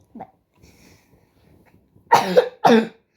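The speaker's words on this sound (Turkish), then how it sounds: "ara sıra böyle öksürebilirim kusura bakmayın" Two loud, harsh coughs close to the microphone, preceded by a faint throat noise and quiet breathing.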